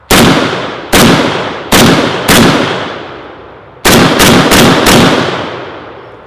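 Gunshots from an M92 PAP AK rifle fitted with a stock, loud and close: four spaced single shots, then a faster cluster of four, each with a sharp crack and a long ringing decay.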